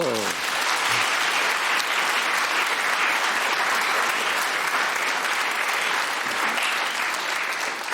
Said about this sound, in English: you can, of course, enjoy this smooth yet distinctly hairy radio theatre round of applause